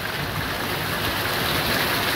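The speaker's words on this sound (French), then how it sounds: "Oh là là le rideau de grêle." A violent storm drives a curtain of hail and rain over vineyards, a loud unbroken wash of hiss and roar that holds steady and close throughout.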